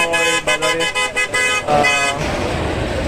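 At a busy wholesale guava market where fruit arrives by motorcycle and van, a vehicle horn toots loudly several times in quick succession, followed by a sustained honk.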